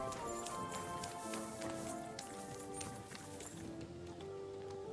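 Horse hooves clip-clopping in Kingdom Come Deliverance 2, a steady rhythmic patter of footfalls under a layered musical drone, faint and evenly paced across a few seconds.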